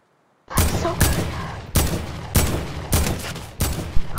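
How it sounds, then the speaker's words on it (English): Gunfire in Fortnite booms out as heavy, evenly spaced loud shots about every half second after a brief silence, each with a rumbling tail, and no one speaks. "Who's shooting me?"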